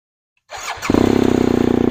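A motorcycle engine is started from silence: a brief starter whir, then the engine catches into a loud, steady, rapid idle that thumps close by with no one talking.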